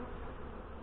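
Honey bees drone in a dense, steady buzz close by during a hive inspection after robbing, a brief continuous swarm hum with no voices.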